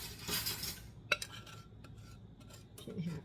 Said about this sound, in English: I'm going to coax it out with a little spoon